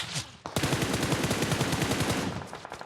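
Rapid automatic gunfire from a PUBG Mobile match in a solo-versus-squad ranked game, a sustained loud burst of closely spaced shots after a brief pause, alone without talk.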